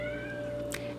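A kitten at a new adoptive home gives a single short meow over a steady background hum, near and fairly soft, without speech.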